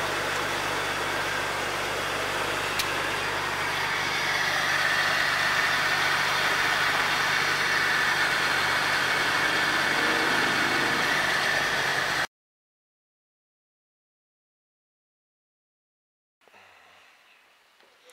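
A Jeep Cherokee Freedom Edition with a charging system fault idles after a jump start from a jump box, giving a steady, close engine drone for about twelve seconds. It then cuts abruptly to silence, with faint rustling near the end.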